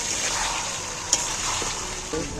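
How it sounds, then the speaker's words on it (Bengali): Chicken cooking with sour yogurt in a pan sizzles steadily while a spoon stirs through it, with a few short scraping clicks and no talking. "এবার টক দইটা দিয়ে এবার আমি নাড়াচাড়া করতে থাকবো, কষাতে থাকবো।"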